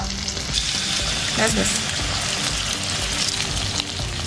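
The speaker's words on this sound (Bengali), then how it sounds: "প্রথমেই দিয়ে দিলাম রসুন, তার সাথে কারি পাতা, কাঁচা লঙ্কা।" Garlic, curry leaves and green chili fry in hot oil for a sauce, a loud, steady crackling sizzle with occasional stirring, heard up close.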